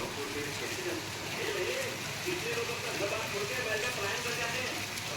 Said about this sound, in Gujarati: અમારે તો અહીંયા વરસાદ ચાલુ થઈ ગયો છે ધીમી ધારે.